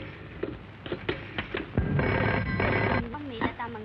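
A telephone rings in repeated bursts over a steady background in a Bollywood film scene, with a voice speaking briefly between the rings.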